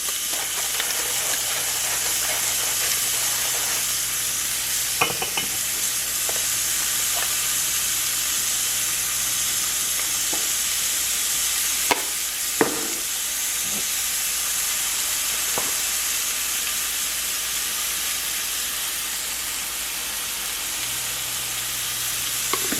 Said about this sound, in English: and you should hear the sizzle